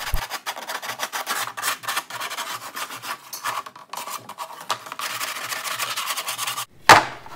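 Steady rasping of medium-grit sandpaper rubbing back and forth on the edges of a wooden frame, continuous strokes up close, ending with a brief louder scrape.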